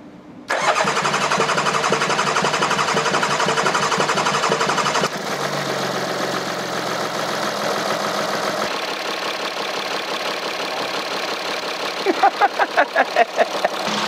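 A car engine cranks and catches, running at a loud raised rev before dropping to a steadier idle, with some rhythmic rattling knocks near the end.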